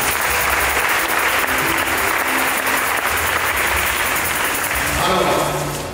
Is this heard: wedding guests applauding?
yes